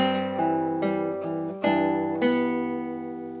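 Acoustic guitar plucking one bar of Beethoven's Für Elise: about six ringing notes in a steady lesson-tempo rhythm, played close and clear, each note sustaining into the next.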